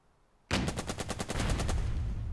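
A tank opens fire in the Burden of Command strategy game, a sudden loud blast followed by a rapid rattling string of shots that settles into a sustained roar.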